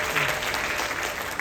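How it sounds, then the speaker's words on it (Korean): An audience at a summer church retreat lecture claps steadily, giving dense, continuous applause throughout the short moment. "박수 하겠습니다."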